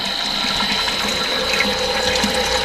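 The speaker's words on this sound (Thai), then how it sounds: "นี่น้ำไหลแล้วนะครับ" Water gushes steadily from a running 1.5 hp, 1.1 kW, 220 V inverter-driven water pump, a loud continuous rushing flow with a humming motor tone underneath.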